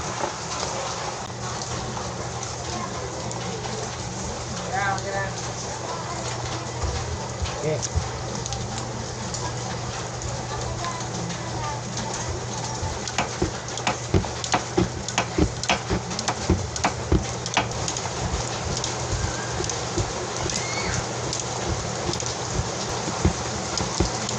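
Steady rain pattering on a surface, dense and continuous, with heavier drops and taps growing more frequent toward the end and a voice speaking, during a flood.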